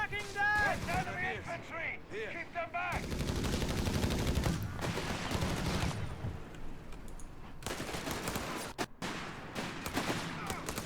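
Bursts of MG42 machine gun fire in the WWII strategy game Operation Clash, layered with other gunfire and battle noise, running continuously under a commentator's voice.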